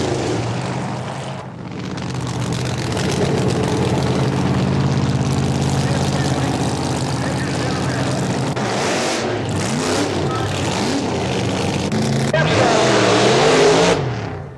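A big block Chevrolet powered pickup truck making a drag racing pass down a quarter-mile track, its engine roaring loud and steady throughout with a commentator talking over it and a rising surge near the end.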